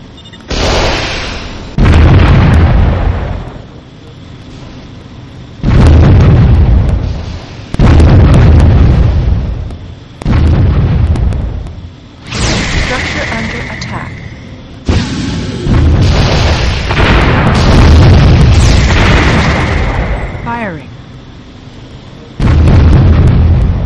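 Laser satellite strikes from Warzone 2100 land as a series of loud, booming explosions, roughly seven heavy blasts separated by short quieter gaps, some with a rising electronic whine before the impact.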